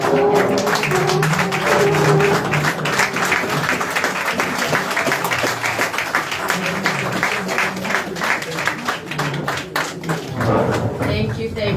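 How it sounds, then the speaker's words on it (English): Audience applause at a Ministry of Information and Communication handing-over ceremony in Sierra Leone, a sustained round of clapping for the Minister lasting the whole stretch, dense and steady, with voices mixed in underneath. "I ask everybody to stand up and give a round of applause for the good work to the Minister"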